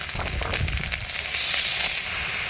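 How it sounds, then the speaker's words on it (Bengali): Ground onion and garlic paste with green chilies sizzles steadily in hot oil, a loud, close frying hiss with crackling spits that swells slightly midway, with no voices. "মশলাটা সুন্দর ভাজা হয়ে গেছে, এখন আমি অল্প একটু জল দিয়ে দেবো"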